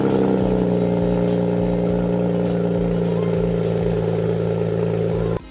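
A BMW 335i with the N54 engine runs with a steady, droning, mid-pitched engine note and low rumble, holding fairly constant and loud before cutting off abruptly at the end.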